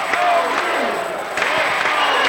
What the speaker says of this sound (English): Wing Stadium alive with a great crowd here.